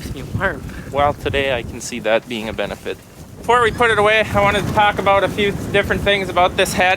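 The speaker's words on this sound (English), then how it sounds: "It's terribly windy out here." Gusty wind buffets the microphone in low rumbling bursts while someone talks continuously over it outdoors, close and loud.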